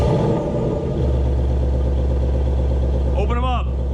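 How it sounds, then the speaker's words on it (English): A Ford Mustang GT fitted with an MBRP Pro Series active cat-back exhaust in quiet mode cranks briefly, then settles into a steady deep idle, with a short burst of speech near the end. "So here we go on quiet mode,"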